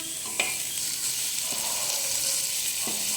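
Chopped onion sizzles and fries in a hot pan for a vegetable lumpia filling with garlic, a steady bright crackle broken by a few short stirring scrapes, close and alone.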